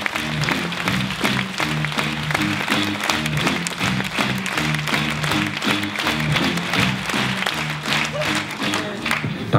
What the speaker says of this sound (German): Bitte schön, Applaus!